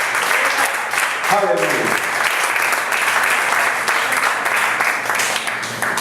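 Church congregation applauding steadily and loudly, a dense wash of clapping with a voice calling out over it near the start.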